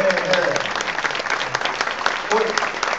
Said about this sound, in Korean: 우리 집사람한테 박수 좀 한번 보내주세요